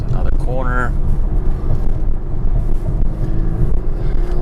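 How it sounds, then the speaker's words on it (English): A 2023 BMW 430i Convertible drives through a corner, its engine and road rumble loud and steady with wind noise, while someone talks over it. "A lot of fun driving this 4 Series."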